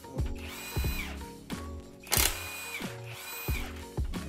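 Repeated short bursts of a loud Hercules pneumatic impact wrench hammering bolts loose on a Honda F23A1 engine, roughly every half second, with rattling clatter and a whining tone between hits.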